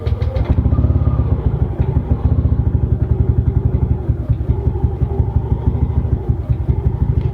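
A Yamaha Aerox 150cc fuel-injected scooter engine idles too low with a steady, rapid thumping chug, loud and close, running unevenly at first before settling into a rhythm.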